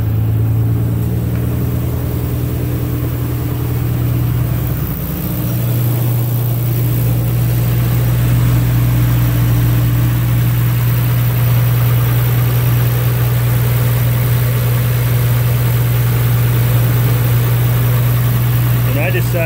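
A Nissan Skyline R32 GTR engine, fitted with upgraded R34 GTR Splitfire ignition coils, idles steadily after startup with a loud, smooth, even drone and deep low hum close by, its pitch dipping briefly early on before settling.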